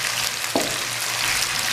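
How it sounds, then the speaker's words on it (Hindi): Potatoes, eggplant and green chilies fry in hot oil in a pan, giving a steady, close sizzle with one brief stir or scrape partway through. "अब मैं इस सब को अच्छी तरह भून लेता हूँ"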